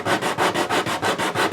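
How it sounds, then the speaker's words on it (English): An 80-grit, 3-inch sanding block rubs back and forth across a guitar bridge saddle, giving steady, rhythmic rasping strokes at close range with no voices. "Sand that flush. I've got some 80 grit here on this sanding block."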